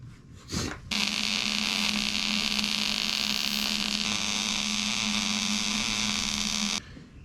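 Steady loud electric welding on the steel seat frame of an old dump truck, a continuous buzzing hiss with a low hum that starts abruptly, runs unbroken for about six seconds, then cuts off.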